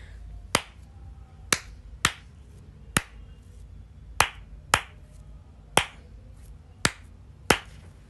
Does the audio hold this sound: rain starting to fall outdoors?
no